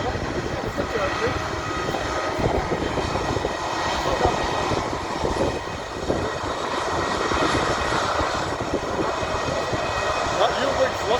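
A Eurowings Airbus A320-200 jet taxis close by at Edinburgh, producing a loud, continuous engine roar and whine with a broad rumbling texture, while people talk over it.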